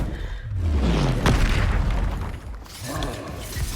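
A fire spell cast in Hogwarts Legacy, a loud whooshing burst of flame with a deep booming rumble, followed by a second rushing flare, close and full.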